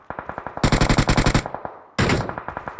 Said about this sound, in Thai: โดนยิงหลัง